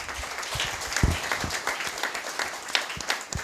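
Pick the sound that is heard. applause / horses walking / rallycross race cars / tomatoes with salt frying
applause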